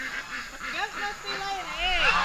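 Mallards, wild native ducks kept on a farm, quack close by in a run of overlapping nasal calls against steady outdoor noise.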